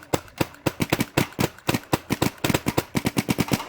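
Rapid shots from a Tac-One Automag gun ring out in a quick, irregular string of about twenty sharp cracks, loud and close with short pauses between bursts.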